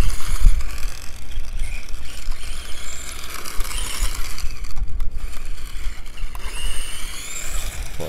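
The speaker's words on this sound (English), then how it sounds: "Might be steering servo, that noise." Steering servo of a Tamiya Mad Fighter RC car giving off a steady mechanical whir with clicky, ratchet-like gear chatter, close up and continuous with no talking.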